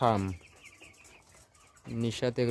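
Fifteen-day-old chickens on a poultry farm cluck and chirp softly in the background, with a person talking loudly at the start and again near the end.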